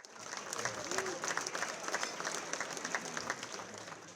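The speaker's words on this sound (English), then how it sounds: "round of applause for Bill" A gala audience gives a round of applause for Bill, a dense wash of clapping hands at moderate distance, steady throughout with faint crowd murmur beneath.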